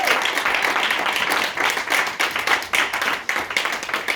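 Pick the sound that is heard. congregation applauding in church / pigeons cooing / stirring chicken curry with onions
congregation applauding in church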